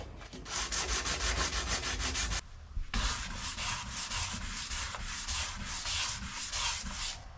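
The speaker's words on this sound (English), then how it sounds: "that's scary sanding away at the body of the truck" Abrasive sanding of a rusty Ford F150 truck fender during an amateur rust repair: loud, steady scraping strokes for about two seconds, a brief pause, then a longer continuous run of close sanding.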